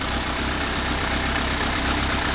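A tuned Toyota 4AG 16-valve engine with quad throttle bodies and 296-degree cams idles steadily and smoothly, a close, even mechanical hum that holds throughout with no voices.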